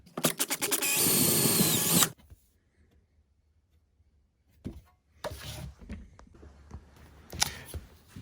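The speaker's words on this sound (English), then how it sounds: "now I'm going to come in with a 9/64 drill bit" A power drill with a 9/64-inch bit whirs loudly for about two seconds up close, then quiet, followed by some handling clatter and tool noises.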